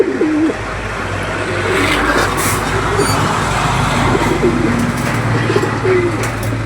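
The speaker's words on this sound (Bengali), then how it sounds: "দেখেন কবুতরগুলো মাশাল্লাহ" Desi old-blood high-flyer pigeons coo in low, repeated throaty phrases from a loft, with a steady rumble of passing traffic underneath throughout.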